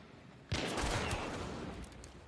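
Video game gunshots break out suddenly: a loud, crackling burst of rapid shots that then fades into a noisy tail, close and full, with no talking.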